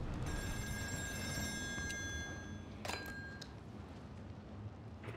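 A telephone rings on an oil rig in the video game Still Wakes, a steady electronic trill under a low rumbling hum, fading after a few seconds.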